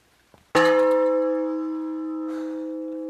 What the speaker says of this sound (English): And this is a Japanese bell.